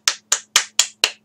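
Six sharp, evenly spaced hand claps in quick succession, each crisp and close, with a faint steady hum underneath.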